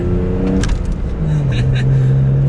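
A manual Toyota Tacoma pickup's engine hums and rises in pitch as it accelerates, heard from inside the cab, with a voice speaking over it.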